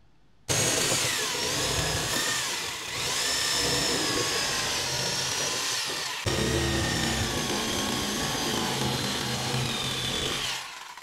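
A reciprocating saw fitted with two welded-together 30 cm blades cuts through polystyrene foam for theming work, a loud, continuous buzzing drone with a rasping edge that runs for about ten seconds with a brief dip partway through.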